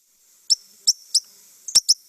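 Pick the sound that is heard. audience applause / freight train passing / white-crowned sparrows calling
white-crowned sparrows calling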